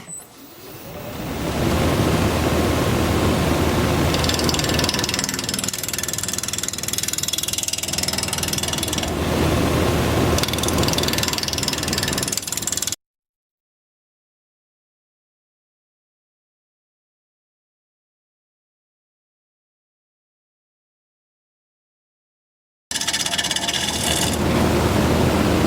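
Wood lathe turning a laurel bowl while the bottom is flattened, a loud steady scraping hiss of the tool cutting spinning wood, running continuously, then a gap of silence before the cutting resumes.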